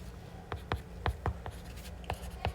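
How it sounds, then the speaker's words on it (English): Marker or chalk writing on a board while noting set notation, heard as a series of crisp, evenly spaced strokes and taps, close and moderately loud, with no talk. "let me write it down"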